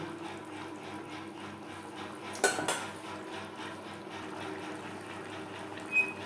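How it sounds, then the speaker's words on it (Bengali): Rui fish pieces are stirred into spicy gravy in a pan for a Bengali fish curry, with soft scraping and one clear metallic clatter of a spoon against the pan over a low sizzling hiss, followed by a lighter tap later. "গ্রেভির সাথে মাছ বেশ ভালো করে মিক্সড করে দেবো"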